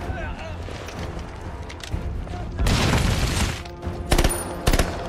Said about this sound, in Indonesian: Begitu granat dilempar, Roka langsung menyusup ke dalam parit dan menyerang